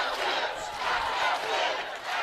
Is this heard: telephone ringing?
no